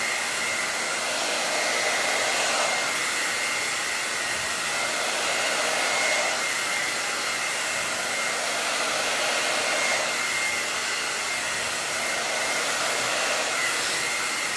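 A hair dryer blows on hair in a salon, a steady loud airy whoosh that swells and dips slightly as it moves, running alone without talk.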